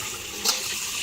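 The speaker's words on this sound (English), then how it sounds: "give our pan a quick rinse" Water from a kitchen tap runs into a paella pan being rinsed, a brief hissing splash that swells for a moment and then settles into a steady flow.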